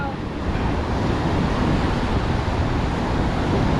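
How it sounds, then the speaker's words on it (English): Steady, roaring wind gusts across the open beach at Miramar Beach, Florida, blending with surf into a constant broadband rush close to the microphone. "The wind's blowing in."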